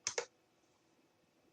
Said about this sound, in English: by typing something in that's already there and hitting save